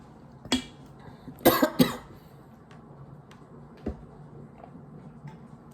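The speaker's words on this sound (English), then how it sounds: "I started coughing after I said justice" One person coughs sharply, then a quick cluster of two or three harsh coughs follows, close to the microphone in a quiet room, with a faint tap afterward.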